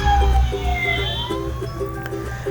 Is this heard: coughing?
no